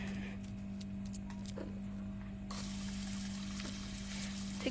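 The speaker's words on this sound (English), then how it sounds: "Sink water." Running sink water in the video game I Am Cat: a steady, faint stream under a constant electronic hum, growing a little fuller midway, with small clinks near the end.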